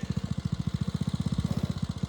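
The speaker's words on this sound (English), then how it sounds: "All right, I'm gonna get back to my mowing." A lawn mower engine runs steadily and close by, its low, pulsing chug repeating rapidly and evenly throughout, with no talking over it.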